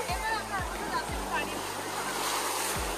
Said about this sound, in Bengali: খুব বড় বড় ঢেউ হচ্ছে